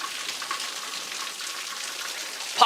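Heavy rain pours during a thunderstorm in Hyderabad, a steady, dense hiss of falling water that holds level throughout, with a louder burst at the very end.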